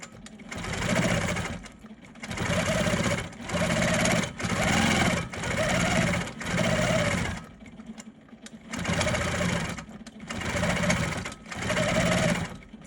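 Longarm quilting machine doing free-motion quilting of hexagon (hexie) patterns, running in repeated one-second bursts of rapid stitching hum with short pauses between, close and loud, with a voice faintly underneath.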